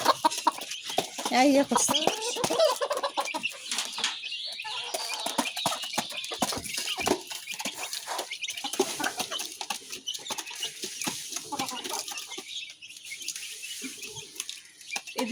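Native deshi chickens cluck and call nearby in a rural yard, repeated clucks and short squawks coming and going, with a voice speaking briefly over them.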